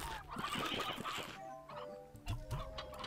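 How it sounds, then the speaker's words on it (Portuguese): Chickens cluck and squawk in the Slime Rancher video game, several nearby bursts of clucking followed by sharper calls, with game sounds and no talk. "Ah, tem bastante galinha."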